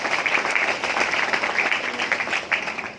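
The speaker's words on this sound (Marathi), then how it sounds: "जयंतराव आणि भिडे साहेबांकरता टाळ्या वाजवल्या पाहिजे" Steady applause from an audience at a Maharashtra bar council gathering, dense clapping holding at an even level for the full length with no voices over it.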